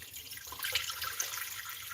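Herbal tea poured through a strainer: a steady, hissy splash of liquid lasting about two seconds, fairly quiet and close, with no voices.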